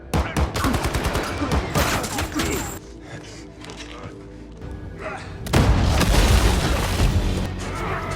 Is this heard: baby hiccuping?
no